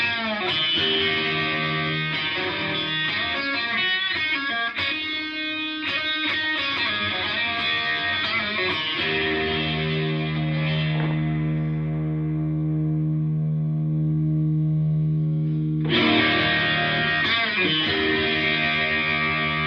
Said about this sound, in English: So what I'm going to do is I'm going to put a bit of drive on the amp. So classic rock, bridge position.